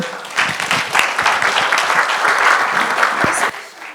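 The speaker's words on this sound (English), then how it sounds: "please give an energetic applause to everyone" Audience applause at a conference session on gender equity, a dense, loud round of clapping from a crowd that swells quickly and then tapers off toward the end.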